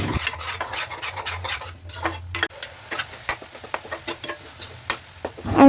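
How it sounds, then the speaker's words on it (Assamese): Tomato paste for an egg curry is stir-fried in a pan over a low flame, with a spatula repeatedly scraping and clacking against the metal over a quiet sizzle, and a sharper clatter near the end. "লৰাই ভাজি ল'ম"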